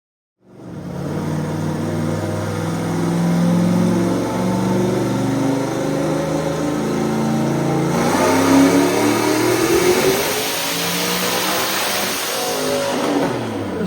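A turbocharged drag racing engine with a 108mm turbo set to 24 psi starts abruptly, then drones loudly and revs, its pitch sweeping upward near the end, close and sustained with no talking.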